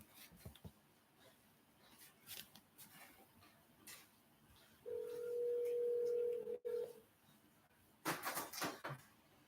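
A mobile phone plays a sustained tone while a call is being placed, a steady beep lasting about two seconds amid quiet room rustling, followed by a short burst of clicks and handling noise.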